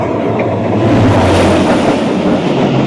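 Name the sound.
Karachi Express train passing Landhi station at speed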